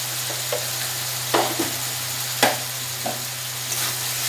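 Masala sautéing and stirred in a pan for a pointed gourd (parwal) curry, a steady frying sizzle with a constant low hum, broken by a few sharp spatula scrapes and knocks against the pan.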